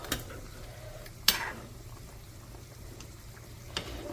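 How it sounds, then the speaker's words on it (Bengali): Chicken curry being stirred in a pan with oil separated on top, giving a soft, low sizzle and bubbling with a few sharp spoon scrapes against the metal, close and steady with no voices. "ভালো করে মিক্স করে দুই মিনিট রেখে নামিয়ে ফেলবো"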